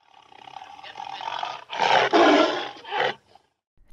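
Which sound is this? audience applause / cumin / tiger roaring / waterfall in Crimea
tiger roaring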